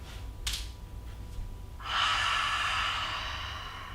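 A short, sharp nasal breath is followed by a long, steady exhale during a yoga session, close and clear against a quiet background.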